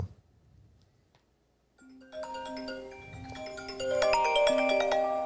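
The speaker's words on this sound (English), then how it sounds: "the phone is ringing" A phone ringtone enters after a quiet start and plays a bright repeating melodic tone that grows louder near the end, with no talk over it.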